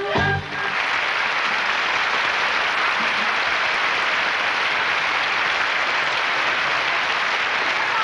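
Sustained audience applause at a children's song festival in 1983, dense steady clapping from a large crowd that fills the whole stretch after a brief opening sound.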